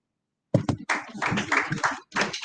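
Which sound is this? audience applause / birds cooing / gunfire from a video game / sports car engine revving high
audience applause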